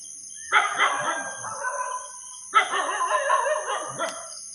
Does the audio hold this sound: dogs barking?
yes